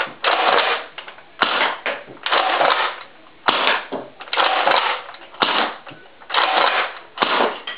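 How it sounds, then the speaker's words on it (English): A Nerf Longstrike blaster fired with its barrel removed gives a sequence of sharp mechanical priming clacks and bursts of air, six rounds in an even rhythm, close and loud with no talk. "First will be the barrel off. I'll fire 6 rounds."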